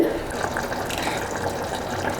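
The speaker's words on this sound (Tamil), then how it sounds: "இதுக்கப்புறம் ஒரு 1/2 டம்ளர் தண்ணி ஊற்றிக்கலாங்க" Water pours steadily into a pressure cooker holding tomato and eggplant chutney, a continuous splashing gush with no pause.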